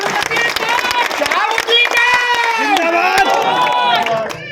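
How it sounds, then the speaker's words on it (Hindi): Crowd at a Hindi political speech rally in Moradabad, loud close cheering and shouting with overlapping voices and sharp claps scattered through, an energetic, sustained roar. "एक बार जोरदार तालियां हो जाए उनके लिए।"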